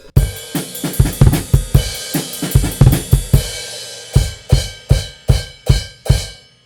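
A drum kit plays a driving chorus beat from a song, kick and snare hits repeating steadily under a constantly washing ride cymbal, loud and close.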